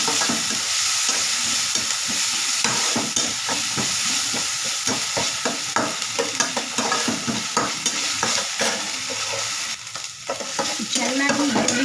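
Chicken frying in a pan for a quick chicken fry, a continuous dense sizzle with frequent stirring clinks and scrapes throughout, close and fairly loud.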